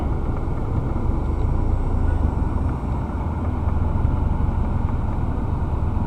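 A 2006 Subaru Outback engine running as a steady, loud, even drone that holds without change from start to finish, with no talking.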